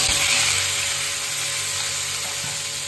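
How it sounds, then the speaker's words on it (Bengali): Meat seasoned with ginger, garlic, salt, turmeric and chilli powder frying in a pan, a loud continuous close sizzle with a faint steady hum beneath it, no voices. "আর মাংসটা আমি একটু ভেজে নিই ওটাতে"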